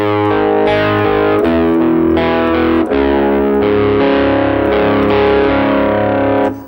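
Distorted electric guitar plays a main theme riff, a loud, steady run of picked chords with no pauses, heard alone without voices.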